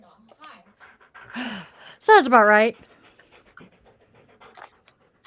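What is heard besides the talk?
dog panting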